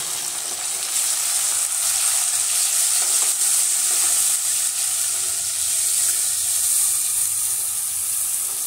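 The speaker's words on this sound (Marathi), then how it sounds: "आता हा मसाला जो आहे हा चांगला परतून घ्यावा." Red chili powder and turmeric masala sizzling steadily in a hot pan for a Maharashtrian buttermilk potato curry, a continuous close frying hiss with faint stirring scrapes and no voices.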